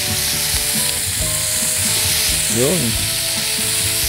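Six burger patties fry in a hot pan, a steady loud sizzle running throughout while someone speaks briefly over the crackle.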